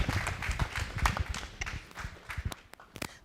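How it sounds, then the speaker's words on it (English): An audience applauds a panel at a community health equity council event. The clapping is moderate and uneven, with scattered sharp claps that thin out toward the end. "Let's give our panel a round of applause"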